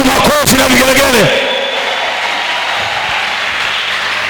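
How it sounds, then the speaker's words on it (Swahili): A church congregation ululates in high, warbling trills for about a second, then breaks into a sustained, dense wash of clapping for Jesus. "Mpigie Yesu makofi na vigelegele."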